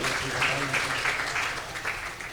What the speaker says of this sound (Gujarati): ખરેખર એમને એક વખત તાળીઓથી વધાવીએ.